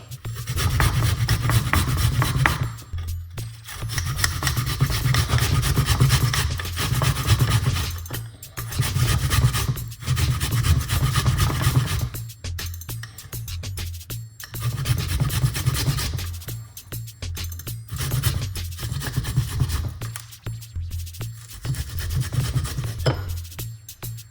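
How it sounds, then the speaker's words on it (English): Fresh ginger root rubbed back and forth across a grater for a cough remedy, giving loud, close rasping strokes in steady bursts with brief pauses between them, with no one talking. "Ginger, grate a nice piece of ginger."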